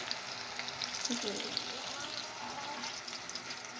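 Onions frying in a pan until light pink for a chicken and potato dish, a continuous close sizzle throughout with faint stirring scrapes, no one talking over it.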